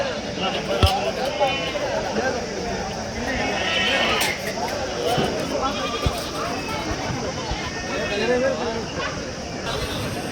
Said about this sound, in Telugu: ఇది పరిస్థితి గొర్రెల సంత అంగళ్ళు.